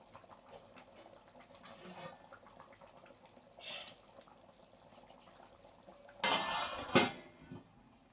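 A pot of fish curry with coriander, gripped with a cloth and shaken, gives quiet clinks and scrapes followed by a louder rattling slosh near the end, heard close in a home kitchen.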